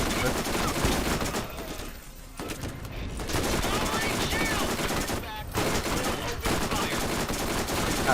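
A chain gun fires in the first-person shooter Borderlands, with loud, dense bursts of rapid automatic gunfire broken by two short pauses and resuming each time.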